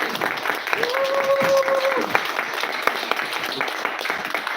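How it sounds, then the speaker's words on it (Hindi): An audience claps steadily in a dense, continuous burst of applause for a farming products company at a live event, with a voice briefly heard over the clapping. "एक बार जोरदार ताली चाहूंगा हमारी कंपनी अल्टोस"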